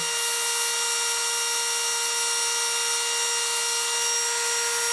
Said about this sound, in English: you're taking off the burrs